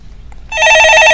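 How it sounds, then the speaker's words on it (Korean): A telephone rings on a radio call-in show about stock investing. After a brief quiet start, a loud, bright electronic ring begins and holds steady to the end. "전화 바로 받아보겠습니다"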